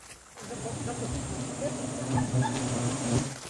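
A swarm of honeybees disturbed during wild honey harvesting, with smoke nearby, makes a dense, steady buzzing drone that fills the whole stretch, close and continuous, with a few faint clicks and rustles.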